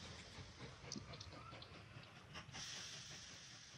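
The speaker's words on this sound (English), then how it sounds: "Passenger train to the rescue." A passenger train in the railway-building game Mashinky rolls along with soft hissing and faint rhythmic rail clicks, quiet and steady throughout.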